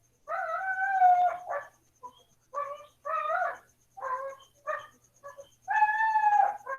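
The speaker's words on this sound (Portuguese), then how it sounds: "Não liguem para o cachorro chorão do vizinho, por favor." Neighbour's dog whining in a string of short, tonal, wavering cries with brief pauses between them, fairly close and clear, with no talking over it.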